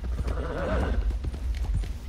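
A horse in Red Dead Redemption 2 neighing loudly with a wavering whinny, followed by a quick rhythm of hooves clip-clopping close by.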